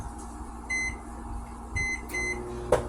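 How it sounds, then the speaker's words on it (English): A microwave oven hums steadily with a low drone, while a few short electronic beeps sound intermittently over it. "I'm going to microwave that up real quick"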